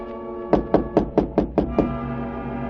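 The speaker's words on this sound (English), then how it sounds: "I heard a tap on my door." Radio drama sound effect of a tap on a door: seven quick, evenly spaced knocks, close and distinct over a quiet background.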